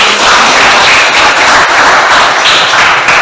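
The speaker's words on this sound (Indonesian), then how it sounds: "tepuk tangan dulu untuk teman" Classroom applause for a classmate, a steady wash of many hands clapping close by throughout, with no voices over it.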